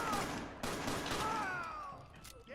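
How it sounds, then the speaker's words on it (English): A dense fusillade of gunfire in Fallout 4 rattles close and loud, overlapping shots blending into a continuous barrage with a brief rising whine near the end. "Somebody's out there shooting the place up."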